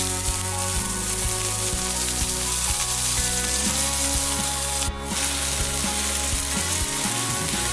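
Cheddar cheese frying in a non-stick pan, a constant close bubbling sizzle running without a break, with one brief sharp crackle midway and no voices.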